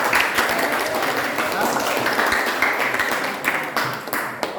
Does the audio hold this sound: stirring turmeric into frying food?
no